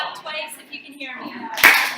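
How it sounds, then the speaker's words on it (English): Two quick hand claps from a group, arriving right after a stretch of speech, sharp and fairly close. "Clap twice if you can hear me."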